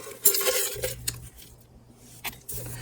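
A utensil breaks up red peppers in an omelet pan with egg mix and sausage crumbles, making close metallic scrapes and taps in a few bursts with a short lull, alone without talk.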